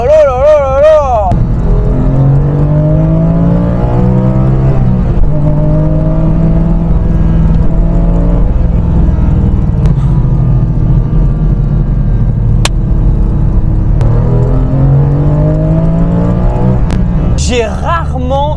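A Porsche 996 GT3 Clubsport engine pulls hard while driving, its loud, close whir rising and falling through repeated climbs in pitch as it revs between gear changes, with brief excited voices at the start and end.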